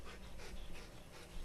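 A police K9 dog panting while searching, quick rhythmic breaths repeating several times in a short, faint burst with no voices over it.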